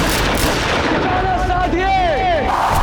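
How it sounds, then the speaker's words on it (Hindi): Gunfire in a staged historical battle at a fort, with Rajput defenders against a Mughal assault, rattling continuously as a dense, loud barrage over roughly three seconds, with rising and falling whistling tones layered over the noise and no clear speech. "अपनी बंदूकें संभालो और चलाओ गोलियां"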